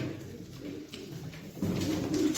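Soft, low pigeon coos repeat over a steady background murmur, close by and gentle.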